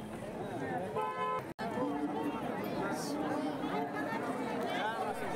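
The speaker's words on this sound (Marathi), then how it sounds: "आणि ही भरपूर गर्दी आहे" Dense crowd of pilgrims chattering at the entrance of the Shri Kshetra Adamapur Balumama temple, a steady babble of many voices with a brief car-horn toot and a sudden short dropout partway through.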